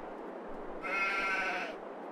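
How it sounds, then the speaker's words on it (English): A goat bleating in Farming Simulator 22, one drawn-out close bleat of about a second over steady farm background noise. "I'm aware that those goats are only here for decoration"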